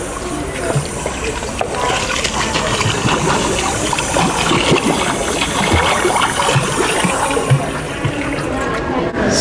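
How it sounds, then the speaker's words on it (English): A running water fountain in an airport concourse gives off a steady, close splashing rush of water that carries on unbroken throughout, over faint background hubbub. "it's a water fountain that makes a water fountain noise"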